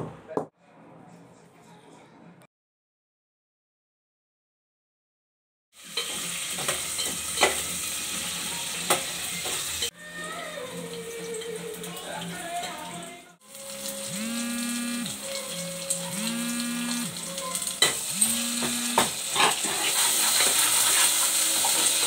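Onions and green chillies frying in oil in a home kitchen for chicken curry, with a steady sizzle and occasional stirring that fade in after a short silence, mixed with background voices and other kitchen sounds.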